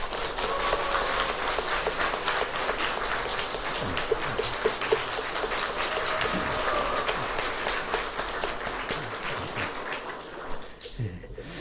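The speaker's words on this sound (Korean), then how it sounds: "우리 박수로 환영하겠습니다" Sustained applause from a large church congregation welcoming a choir, dense and steady clapping filling the room for several seconds before tapering off at the end.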